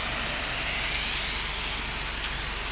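Heavy rain pounds on the road and vehicle while driving through Palakkad in Kerala, giving a loud, dense, unbroken hiss and patter throughout, with no talking.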